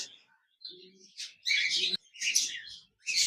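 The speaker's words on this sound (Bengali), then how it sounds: "এখানে দেখতে পাচ্ছেন একজোড়া লুটিনো রেড আই বিগ সাইজের কোকাটেল পাখি রয়েছে" Big lutino red-eye cockatiels, a breeding pair with chicks, give loud close chirps in several bursts with brief silences between them, while a soft low murmur sounds faintly in the background.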